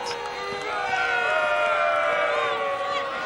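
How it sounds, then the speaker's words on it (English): Partisan home crowd at a Laurier Golden Hawks college football game against Western Ontario, a sustained wash of scattered boos and murmuring spread across the stands, steady and fairly distant. "Some boos smattering down here. The partisan crowd for Laurier."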